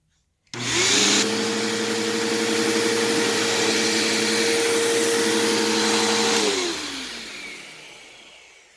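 A Bissell CleanView Bagless PowerTrak Plus 3593-3 upright vacuum cleaner switches on with a loud, steady motor hum and airflow roar, runs evenly for several seconds, then powers down and winds to a fading stop.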